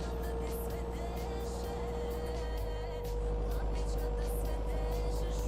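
A steady, continuous drone of a 2020 Toyota Corolla engine and tyre rumble on the road in Euro Truck Simulator 2, unbroken and even in level throughout.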